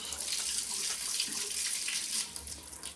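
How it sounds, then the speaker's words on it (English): Hot water running from a kitchen tap into a sink, a steady close hissing splash that continues throughout and tapers near the end. "Let's run some hot water."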